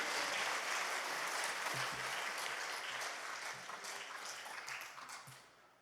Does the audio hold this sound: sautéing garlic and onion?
no